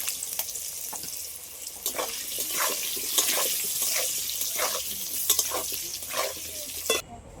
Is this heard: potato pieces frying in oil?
yes